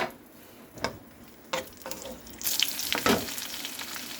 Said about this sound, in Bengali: কড়াতে ঘি দিয়ে দিলাম। এর মধ্যে আমি কাজু বাদামটা আর কিশমিশটা হালকা করে ভেজে নেব।